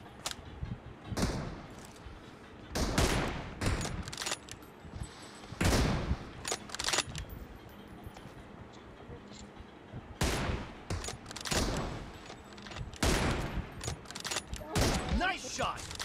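Gunfire from a 2v2 sniper-match video game comes in sharp, loud clustered bursts with short gaps between volleys, with voices occasionally heard underneath.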